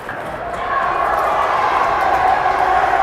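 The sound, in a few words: fans cheering at a youth hockey game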